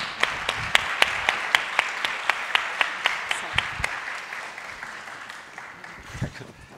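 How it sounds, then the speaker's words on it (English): Audience applause greeting a panelist as she is brought onstage at a sustainable development finance conference, with sharp, evenly spaced individual claps standing out over a steady wash of clapping that thins out toward the end. "Please, a round of applause for her."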